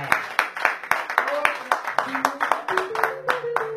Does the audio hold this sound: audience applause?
yes